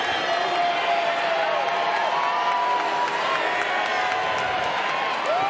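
A dense crowd at the 2019 Westminster Kennel Club Dog Show Best in Show judging cheers, shouts and applauds in a steady, loud roar that fills the whole stretch, with scattered whoops and a few voices rising above it.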